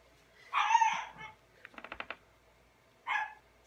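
A pet dog indoors barks in a few loud bursts separated by a quick run of short yips, close and clear, with no talking over it.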